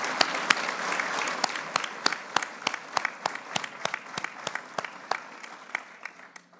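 An audience at a university graduation ceremony claps steadily for a graduate, with a dense wash of applause and sharp individual claps throughout, loud and close, with no talk over it.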